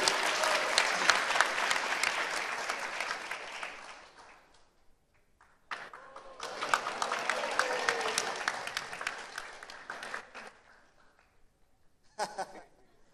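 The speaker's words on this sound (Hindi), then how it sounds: "Give him a clap." An audience at a Sunday Feast lecture applauds in two warm bursts of many hands clapping, each lasting several seconds with a short lull between, then a brief final smattering.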